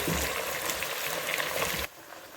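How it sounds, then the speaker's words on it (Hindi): Ginger garlic paste frying with mutton trotters for paya in a pan, a steady dense sizzle that holds close and loud for about two seconds, then drops off abruptly to a quieter hiss. "अब मैं इसके अंदर अदरक लहसुन का शामिल करने लगी हूँ पेस्ट और इसको अच्छी तरह इसके अंदर ही भूनेंगे"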